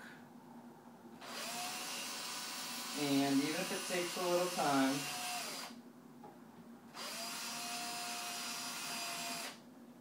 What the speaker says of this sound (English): So just let the drill do the work.